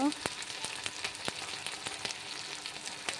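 Chopped tomato and spice masala fry in hot oil with a steady close sizzle, broken by scattered sharp pops and crackles throughout.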